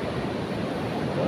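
Surf rolling in at Widara Payung beach, a steady broadband wash of breaking waves with a constant low rumble, loud and unbroken throughout with no voices.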